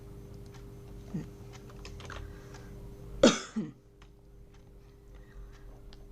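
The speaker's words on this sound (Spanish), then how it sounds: "tienen que mantener presionada la tecla Shift y buscar en el teclado donde se encuentra el igual" A few clicks of computer keys being pressed, Shift and the equals key, soft and close, followed by a brief cough or throat-clearing sound in a quiet room.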